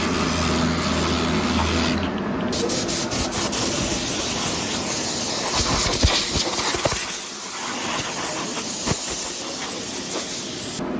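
Abrasive 80-grit sanding of paint on a Ford RS Turbo Fiesta bumper, a continuous broadband hissing rasp that stays steady and close for the whole stretch, with scattered scraping strokes and no talk.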